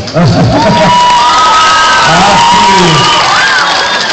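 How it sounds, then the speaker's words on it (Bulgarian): A crowd cheers, whoops and claps loudly at a concert opening inside a shopping centre in Varna, with children's shouts and excited voices rising continuously and close throughout. "без аплодисменти няма да се кача."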